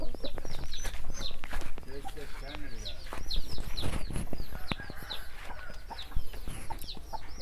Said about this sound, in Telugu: ఇది వచ్చేసి తూర్పు పుంజ అండి. ఇది డబల్ బాడీ, మంచి ఫైటర్.